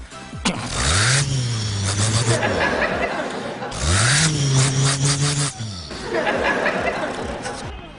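A man vocally imitates a Ford Transit van engine, producing revving, droning engine noises in three loud bursts that rise and fall, with brief chuckling between them.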